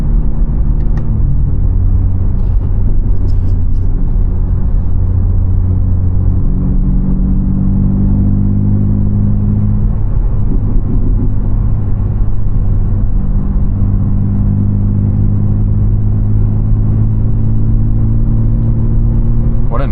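A tuned BMW G80 M3 accelerating on a drive, its engine a loud steady droning rumble with rising and shifting tones as it pulls through the gears, heard from inside.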